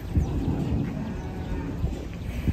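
Cattle coming off a tilting truck, low lowing and shuffling thuds of the animals mixed with a steady crowd murmur and scattered voices close by.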